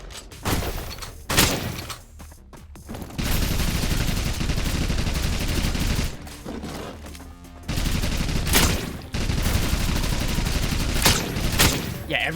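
Rapid-fire weapon shooting in the video game Holy Shoot, with long dense bursts of loud, crackling gunfire broken by short pauses and sharp single shots.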